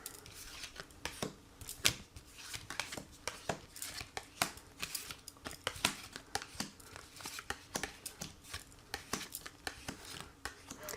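Tarot cards are shuffled by hand in quick, crisp riffles and slaps that repeat in an uneven rhythm for several seconds, close and fairly quiet, with no talk over them.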